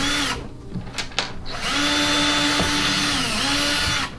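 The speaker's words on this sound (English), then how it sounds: "I'm just going to drill the first hole." A power drill runs steadily, boring a hole through a kayak hull while rigging accessories, with a whining motor tone that revs briefly, pauses, then holds a long continuous bore close up with no talk.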